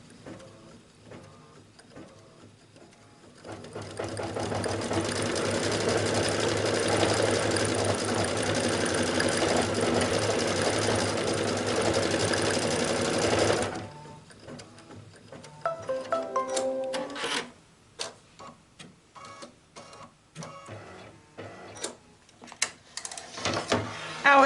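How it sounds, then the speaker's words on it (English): A sewing machine tacks satin fabric down over an outline, running steadily and loudly for about ten seconds, then stopping, followed by irregular close clicks and fabric handling. "I'm running my machine to tack down the satin"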